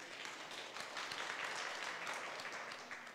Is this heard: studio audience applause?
yes